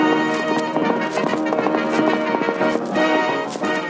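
Hooves clip-clop for the Sultan's horse in an old radio comedy, a quick, even rhythm of hoofbeats mixed under loud background music.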